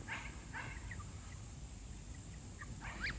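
Young muscovy ducks give faint, high chirping calls in short scattered bursts, some doubled, over a low steady background hum.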